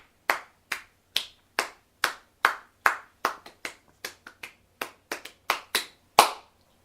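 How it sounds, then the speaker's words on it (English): Sparse, separate handclaps from a small comedy show audience, about sixteen sharp claps in an uneven rhythm, close and crisp with quiet gaps between them. "Can we get some clapping, please?"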